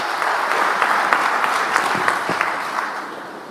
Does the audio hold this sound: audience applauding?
yes